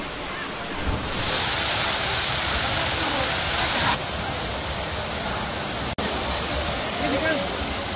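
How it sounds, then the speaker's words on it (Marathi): Kalmandavi waterfall at a hidden spot roars in a steady, dense wash of falling water close by, with wind buffeting the microphone and a brief sharp click near the end. "धबधब्याचं बघू शकता तुम्ही वातावरण।"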